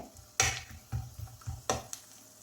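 Raisins dropped into a hot pan of roasting rava for halwa, crackling and sizzling in sharp bursts as a spoon scrapes and stirs, several close stirring strokes over a quiet hiss.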